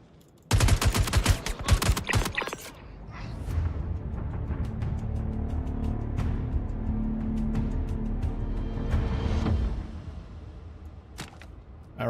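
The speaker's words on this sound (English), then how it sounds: "Why are you guys shooting at me?" Rapid gunfire rattles in Star Citizen, a loud dense burst of shots lasting about two seconds. It gives way to a steadier rumbling background hum.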